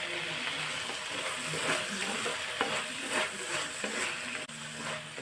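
Mushrooms fry in a pan with onions, a steady loud sizzle broken by repeated scraping clatters of a spatula stirring against the pan.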